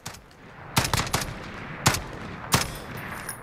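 FN FAL Paratrooper rifle firing in Call of Duty Modern Warfare: a single early shot, then a quick burst of three or four sharp cracks, followed by two more separate loud shots, each with a short ringing tail and no talking.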